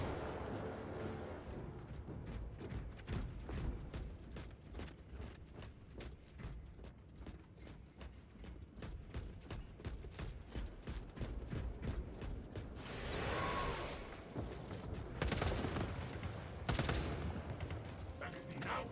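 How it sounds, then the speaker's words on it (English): Weapon magazine pulled out and slotted back in within a Warhammer video game, heard as clicky mechanical rattles amid continuous rapid gunfire and game noise, with louder bursts toward the end. "Magazine out, magazine in."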